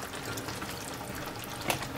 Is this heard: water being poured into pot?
yes